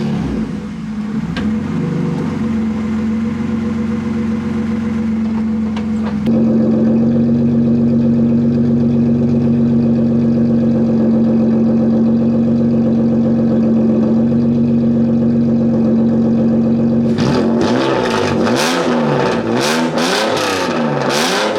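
A drift car's engine fires up and settles into a steady, loud idle with a droning hum, then jumps to a higher pitch before sharp revving surges at the end.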